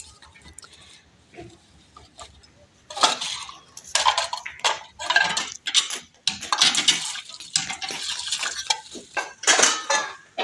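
Tongs, a ladle and freshly washed utensils clatter and scrape as they are gathered together, bursts of metallic clinking coming close and fairly loud, alone at first and then in busy clustered runs.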